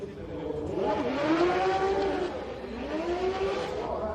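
A 2JZ-powered Toyota GT86 drift car runs at a Formula Drift qualifying event in Montreal, its engine droning and rising in pitch as it revs through a sustained pass, with faint crowd and track ambience beneath.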